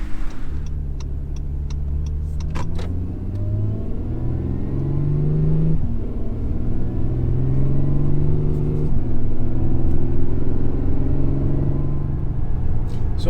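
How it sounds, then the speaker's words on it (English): An Acura NSX sports car on all-season tires driving along a road, a loud steady low road rumble and engine drone with gear-like rises and shifts in pitch as it accelerates. "I'm noticing right away there's a little bit more rumble from the road over the summer tires"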